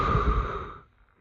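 Close, airy breathing straight into an unprotected headset microphone, one long exhale that fades out after about a second, with no talking.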